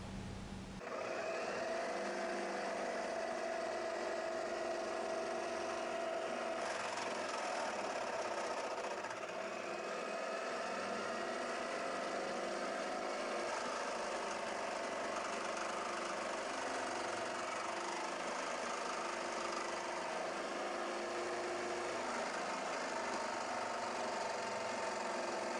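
A power tool fitted with a metal-cutting blade cuts an aluminum pot lifter, giving a loud, steady whining drone that runs unbroken for the whole stretch with a slight shift in tone partway through.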